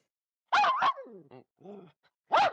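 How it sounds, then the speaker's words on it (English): A dog barks in the balcony of a 1979 television film-review studio: a quick pair of yappy barks, then softer whining yelps, then one more bark, all close and clear. "Gene, we've been visited in the balcony by Spot the Wonder Dog once again"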